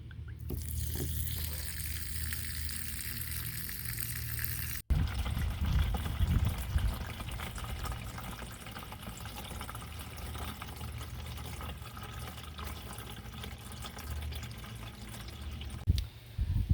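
Water drains from a rain barrel in a steady, close trickle and splash that runs continuously, with a brief clunk partway through and another near the end.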